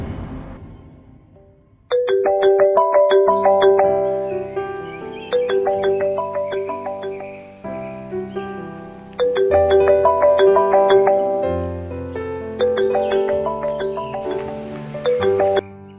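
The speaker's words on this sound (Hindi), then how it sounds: "अचानक मोबाइल की घंटी बज उठी" A mobile phone ringtone plays a bright, repeating electronic melody in loud phrases of chiming notes, each phrase separated by a short gap, with no voices over it.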